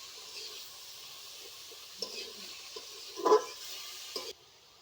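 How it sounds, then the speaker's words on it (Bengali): A spoon stirs vegetables with salt and turmeric in a hot pan while they make a soft, steady sizzle. A few quiet scrapes and one louder scrape sound close by before the sound cuts off. "সব কিছু মিশিয়ে নেব একসঙ্গে।"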